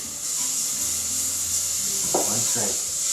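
Butter sizzling steadily in a hot pot, with a continuous hiss and a couple of scraping stirs near the end.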